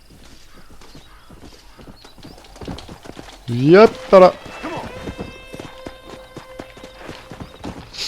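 In the Red Dead Redemption game, a horse's hooves clip-clop in a quick rhythm, followed by a loud whinny that rises in the middle. Someone talks over the hoofbeats.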